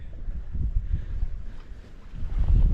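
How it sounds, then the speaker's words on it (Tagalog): Strong wind buffets the microphone in rumbling low gusts that rise and fall, growing loudest near the end, with no talking. "Ay, hinto muna. Hinto ka muna, hangin."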